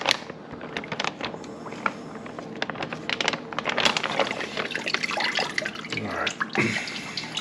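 Brine drips and splashes off a raw turkey lifted out of a Pit Boss brine kit, irregular close wet patters and trickles with a louder splash near the end.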